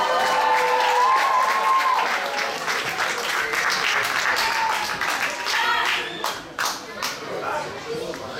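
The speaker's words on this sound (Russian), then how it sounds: "Встречаем бурными аплодисментами." A concert audience in a hall gives enthusiastic applause as a troupe takes the stage at a youth creative contest, with sustained clapping under a voice and some music-like tones early on.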